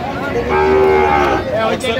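A single loud, drawn-out moo from a Sahiwal cow at a cattle farm in Brahmanbaria sounds close by, a deep sustained bellow lasting about a second and a half.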